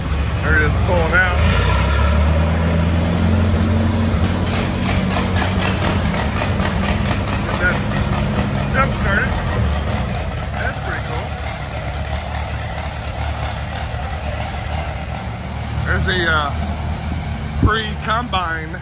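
Antique Allis Chalmers tractor engine running and pulling out at a tractor show, a loud steady mid-pitched rumble that eases slightly, with people talking over it.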